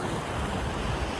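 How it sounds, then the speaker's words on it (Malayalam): Sea waves surge around someone standing in muddy seawater, a steady broadband wash of surf mixed with wind rumbling on the microphone, fairly faint and continuous with no voices. "നമ്മൾ കടലിലെത്തി. ഇവിടെ ഫുള്ള് ചളിവെള്ളാണ്."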